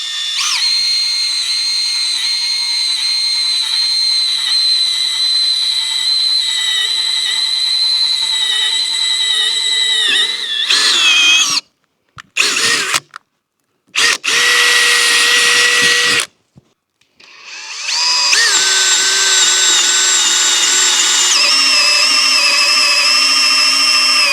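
A power drill whines loudly and steadily, stops briefly a few times and restarts, boring into a metal roof panel up close.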